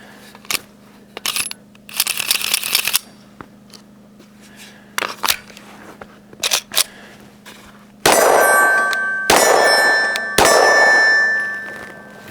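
Metallic clangs and bright rings of brass cases striking a hard surface after shots from a BCA Grizzly pistol fed from a KCI magazine, a few scattered hits early, then three loud ringing bursts near the end with no talk.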